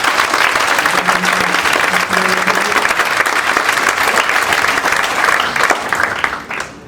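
Loud, sustained applause from a large audience at a Hindi comedy poetry gathering, dense and steady throughout before tapering slightly at the end, with a faint tone buzzing underneath.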